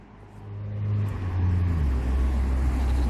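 A Jeep Compass engine rumbles and revs as the car drives off a car dolly, with the low drone swelling and then holding steady, close and fairly loud.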